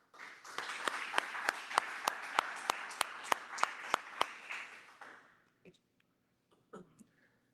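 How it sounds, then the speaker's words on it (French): A press-conference audience claps for about five seconds, with sharp individual claps standing out in an even rhythm before the applause fades into scattered rustling and a few faint noises. "on peut leur donner une bonne main d'applaudissement"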